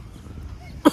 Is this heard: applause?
no